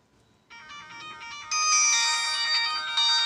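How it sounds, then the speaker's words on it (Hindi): Ringtone-like music played back from a phone speaker with no microphone, starting after a short pause as bright, thin melodic tones that grow louder midway and continue steadily, with no talking. "मैं एक म्यूजिक प्ले करके आपको दिखाता हूँ"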